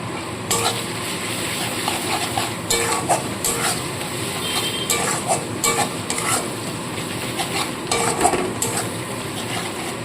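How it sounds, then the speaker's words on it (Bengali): Onions lightly frying in a pan with Kashmiri chili powder stirred in for a Bengali red chicken curry, a steady close sizzle with scraping stirs and brief clatters of a utensil against the pan. "পেঁয়াজটা কিন্তু খুব বেশি ভাজবো না তো হালকা ভেজে নিচ্ছি"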